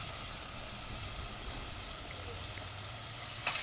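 Garlic and onion sautéing in a pan for a tamarind puli kulambu, a continuous low sizzle heard close, with a brief louder scrape at the end.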